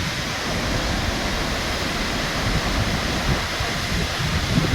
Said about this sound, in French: Une brume vivifiante issue de cette magnifique cascade qui là maintenant est au soleil.